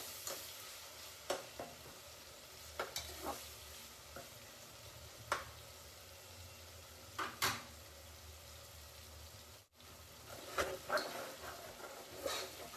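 Tomatoes fry with turmeric and salt in a pan, a low steady sizzle under repeated clinks and scrapes of a spoon stirring against the metal, with one short dropout and no talking.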